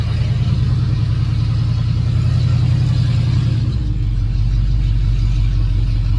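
A 1978 Ford short-bed truck conversion drives off, its engine giving a loud, steady low rumble close by that deepens partway through as it pulls away. No one speaks.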